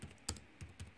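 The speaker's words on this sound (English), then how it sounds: "Oh, the keyboard is working." Quiet keystrokes on the keyboard of a Lenovo IdeaPad Yoga 13 laptop, a few soft separate clicks tapped in quick succession, close up and with no other sound.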